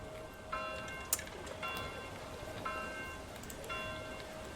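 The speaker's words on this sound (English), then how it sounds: "Now the rains of May seem to be falling down, which is wonderful." A steady hiss of rain falls in the medieval city-builder game Manor Lords, soft and continuous, with faint chiming bell tones recurring at regular intervals over the patter.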